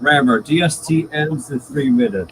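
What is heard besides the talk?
No everyday noises stand out.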